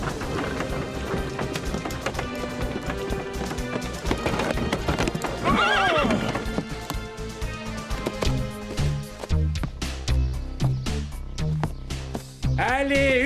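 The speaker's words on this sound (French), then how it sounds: "Aidez-moi à tirer les chevaux." Horses whinny and hooves clip-clop steadily in an animated French children's series, set under dense music and effects, with a loud neigh rising in the middle and hoofbeats continuing throughout.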